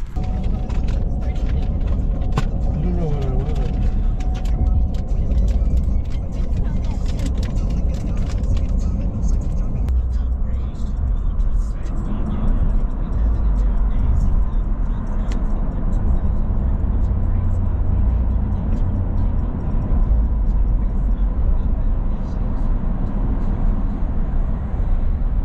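A truck cruising along a highway in Tennessee, with a continuous low road and engine rumble from inside the cab and steady wind and tire noise, with voices talking over it.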